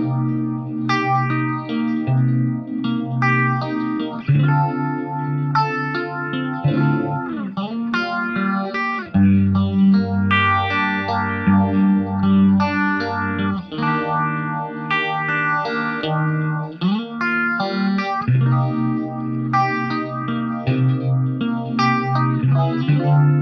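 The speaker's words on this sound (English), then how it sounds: "Here's another example of the great sounding vintage phaser from the Nova system. This time I've added a bit of digital delay." An electric guitar runs through the Nova System vintage phaser with clean digital delay, playing sustained chords and melodic lines with a sweeping, swirling tone and echoing repeats, continuous and upfront with no voices.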